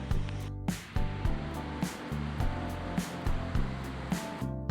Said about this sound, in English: The Ramboda Falls are more than 100 meters high, and it is the 11th tallest waterfall in Sri Lanka.